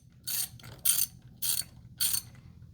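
A loose holder on a 1997 Jeep Grand Cherokee ZJ engine is worked free during a rebuild, giving four evenly spaced, loud metallic ratcheting bursts close by with no voices.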